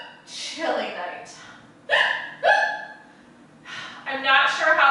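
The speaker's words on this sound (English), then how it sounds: "You may have noticed that I have got a terrible case of the hiccups." A cartoon little penguin hiccups and gasps repeatedly, a series of sharp breathy voiced bursts in uneven rhythm, close and fairly loud, performed by a voice.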